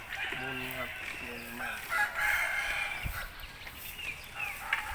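A rooster crows once near the start, a clear cock-a-doodle-doo with a rising and falling call, followed by a second crow. Faint rustling and background activity continue afterward.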